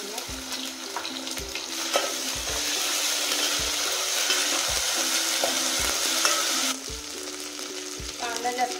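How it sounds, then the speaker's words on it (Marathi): Onion sautés with bay leaf, cloves, cinnamon, black pepper and ginger-garlic paste for mutton dalcha, with a loud steady sizzle and rhythmic scraping stirs of a spatula in the pan, close up with no talk. "कांदा जास्त लाल नाही करायचा, असंच गुलाबी रंगावर परतायचा।"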